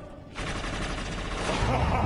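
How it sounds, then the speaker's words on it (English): Rapid gunfire from the video game Inversion, a dense, continuous burst of shots that starts abruptly and keeps up loudly to the end with a busy game-battle backdrop. "Shoot him, Leo!"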